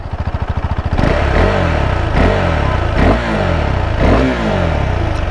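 A 2023 KTM Adventure motorcycle engine idles with a steady thump, then revs up in repeated bursts, roaring loud and close with rising and falling pitch.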